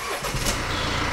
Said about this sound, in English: So let's start up the car and let's confirm the customer complaint.